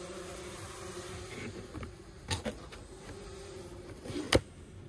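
Bees buzz inside small hives of about fifty insects used to pollinate tomatoes, a steady low drone with a few brief louder knocks and bumps near the end.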